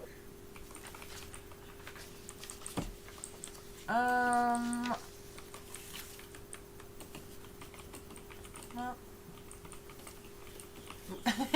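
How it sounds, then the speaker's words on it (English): Light, scattered clicks of typing on a computer keyboard ticking under a quiet room tone. A voice speaks briefly at times. "I can hear you typing."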